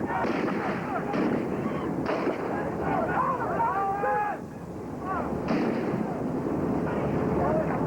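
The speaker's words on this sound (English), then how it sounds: "Suddenly, there's gunfire everywhere." Police gunfire crackles amid loud, chaotic commotion, with people shouting and talking over the continuous din of shots.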